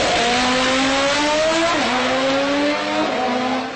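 A voice imitates a revving car engine, rising in pitch with two quick drops like gear shifts, loud and close, in one continuous run of under four seconds.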